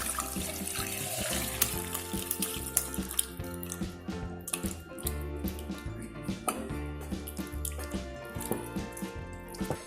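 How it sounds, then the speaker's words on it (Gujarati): Cold water is poured over freshly strained homemade paneer sitting in a cotton cloth over a strainer and pot, a steady running splash with drips that continues throughout alongside other background sounds. "પનીર ઉપર ઠંડુ પાણી નાખીશું"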